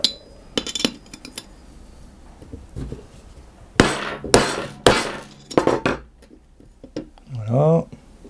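A hammer strikes a stacked bearing to drive it into a Peugeot 205 GTI throttle body: a few sharp metallic knocks, close and loud, clustered in the second half, with faint lighter clinks earlier and a brief voice sound near the end.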